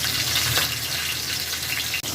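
Hilsa fish heads fry in a pan of hot oil over a medium gas flame, a steady loud hiss and crackle that fills the short clip without pause.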